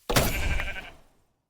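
A sheep in a Minecraft-style video game lets out one loud, close bleat lasting about a second and fading out, with no talk over it.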